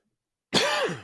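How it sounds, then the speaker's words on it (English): A single short, harsh cough, close and fairly loud, bursting out after a brief silence. "sorry about this cough"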